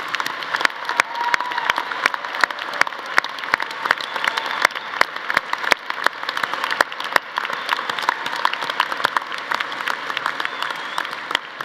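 Sustained applause from a commencement audience at a College of Natural Sciences ceremony, dense clapping that holds steady and fairly loud for the whole stretch with no speech over it.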